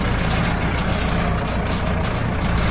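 A Kubota L5018SP tractor engine runs steadily in a palm plantation, a loud, continuous low diesel rumble heard close and alone.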